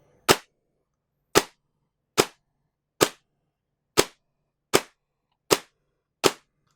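An airsoft DSG rifle fires 0.25 g BBs on semi-auto: eight sharp, close, crisp reports at a fairly even pace of roughly one per second, each snapping off quickly into silence.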